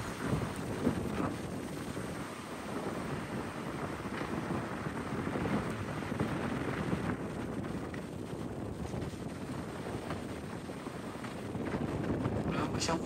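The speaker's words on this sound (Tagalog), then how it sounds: "Hangin lang talaga." Strong typhoon wind roars and buffets the microphone for several seconds, with rumbling noise rising and falling and occasional faint voices underneath.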